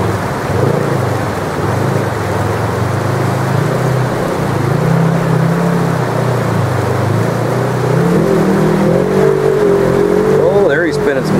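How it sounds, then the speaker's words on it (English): A vehicle in gold fields strains for traction, its engine revving steadily as the wheels spin and slip, the rising whine growing toward the end under a continuous rough rumble and occasional voices. "there he's spinning some wheels"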